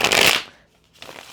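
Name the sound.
shuffling a deck of tarot cards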